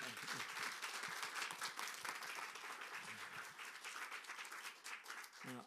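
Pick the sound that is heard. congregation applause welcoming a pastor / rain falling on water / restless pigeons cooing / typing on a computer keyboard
congregation applause welcoming a pastor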